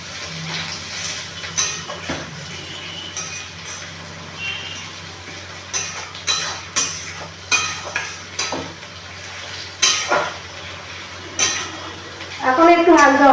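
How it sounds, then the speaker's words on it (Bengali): A spoon scrapes and knocks rhythmically against a pan while chicken kosha sizzles, a steady series of clinks over a soft frying hiss, with a voice speaking at times. "আবার নাড়তে থাকি।"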